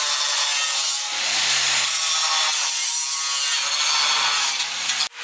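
Metal being cut during a brake job on a Nissan 370Z, trimming room for new big brakes: a steady, harsh rasping cut that runs continuously at close range, then stops abruptly near the end.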